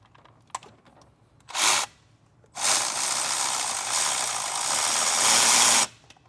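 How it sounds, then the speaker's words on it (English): A 14 mm ratchet working loose the pitch stop mount nut on a Subaru STI, one short burst of rapid clicking, then a pause, then a long steady run of fast close ratcheting clicks. "all you need is a 14 millimeter ratchet and a wrench to get that loose"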